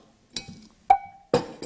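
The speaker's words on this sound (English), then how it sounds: "a cowbell" A cowbell is struck three times, each hit a bright metallic clank with a short ringing tone, spaced unevenly and heard alone without voices.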